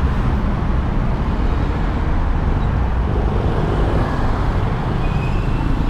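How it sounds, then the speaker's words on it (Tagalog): Dense road traffic surrounds a Yamaha Aerox 155 2023 scooter riding through congestion, a loud, steady wash of engine rumble and wind roar with no clear individual vehicles standing out. "Ayun, traffic talaga oh."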